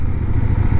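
A CF Moto 800 MT motorcycle engine runs with a steady, loud low rumble, held at a constant pitch through the short moment with no audible rise in revs.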